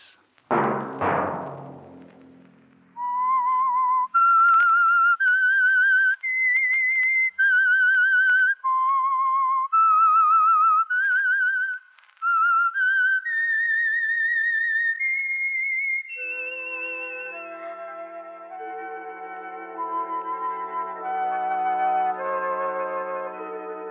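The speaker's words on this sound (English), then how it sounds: "Let that whistle be your signal for the Signal Oil program, The Whistler, each Sunday night at this same time." A lone whistler performs the eerie theme melody of The Whistler radio program, clear sustained notes stepping up and down, followed by a soft orchestral chord backing that fades in.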